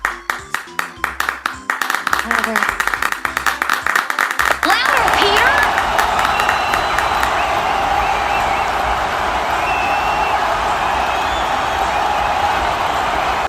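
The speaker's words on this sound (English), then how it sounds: "Clap your hands," An audience claps hands in a fast, steady rhythm for about five seconds, then the sound swells into a dense wash of crowd noise and cheering while a voice shouts over it.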